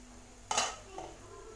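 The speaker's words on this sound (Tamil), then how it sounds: "இப்போ மூடி ஓப்பன் பண்ணி பார்க்கலாம்" A metal pan lid lifts off a tawa of tomato-masala pulao cooking on a low flame. There is one sharp clatter, a short metallic ring and a softer knock soon after, over a quiet kitchen background.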